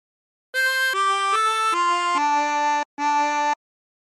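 A tremolo harmonica plays a short phrase of What Shall We Do With the Drunken Sailor, six bright reedy stepped notes with a brief gap before the last, clear and alone.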